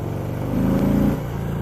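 A 2018 Harley-Davidson Heritage motorcycle engine pulls steadily while riding, a loud, close low rumble that swells briefly in pitch as the throttle opens, then settles back.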